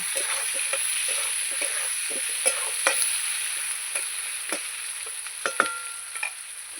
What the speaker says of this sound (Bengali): পেঁয়াজ আর আলু আমি খুব ভালো করে এবার ভেজে নেব